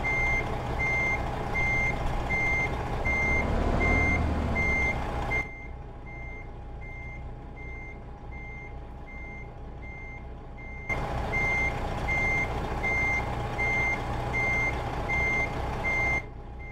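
Truck reversing beeps from American Truck Simulator on the Texas roads near McAllen, Laredo, Abilene and Lubbock, a steady repeating beep alarm over a rumbling engine that cuts out for several seconds and then returns.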